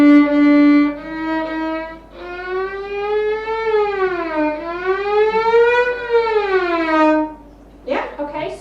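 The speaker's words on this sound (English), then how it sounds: "the shorter the string, the higher the note, the higher the pitch of the note" A sustained, harmonically rich string-like tone holds steady, then bends up and down in pitch in long wavering sweeps, loud and close, before a short voice enters at the end.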